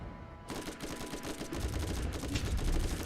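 Gunfire in the video game Borderlands during a co-op arena fight, a dense rapid barrage of shots rattling continuously and growing louder toward the end, with no voices over it.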